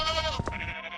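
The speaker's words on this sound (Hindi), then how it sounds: "रास्ते में उन्हें गोपाल नाम का एक चरवाहा मिलता है, जो अपनी भेड़ों को पहाड़ पर चराने ले जा रहा था।" Sheep bleating on the way up a mountain pasture with a shepherd's flock, a short wavering bleat standing out clearly over a soft background, close and fairly loud.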